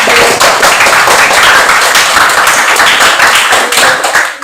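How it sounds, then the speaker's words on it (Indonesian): Classroom of students clapping for a group: loud, close, dense clapping from many hands, sustained and continuous for several seconds. "Tepuk tangan dulu buat kelompok."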